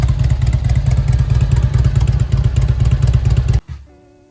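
A Harley-Davidson Electra Glide Ultra Classic engine running loud and close with a steady throbbing pulse, then cutting off abruptly near the end, leaving a brief fading rattle.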